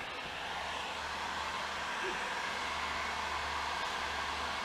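A heat gun blows steadily on a car bumper as it is warmed to push out a dent, a constant broadband airy roar with low hum that holds at one level throughout.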